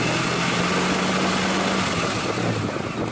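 A small car engine drones steadily and loudly throughout, with a slight rise and fall in pitch as the throttle is worked remotely from a phone.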